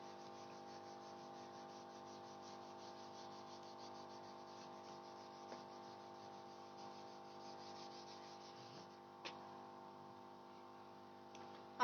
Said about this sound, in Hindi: आपको रब करना है